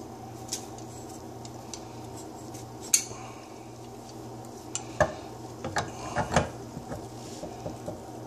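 A threaded plumbing fitting is tightened by hand on a leaking connection, giving sparse metallic clicks and scrapes, including a few sharper knocks, over a steady low background hum.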